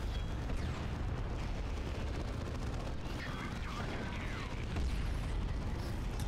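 Heavy plasma cannon fire and rumbling explosions in a Dawn of War 2 battle, a continuous dense barrage of booms and blasts with crackling impacts, loud and close throughout, with faint voices beneath.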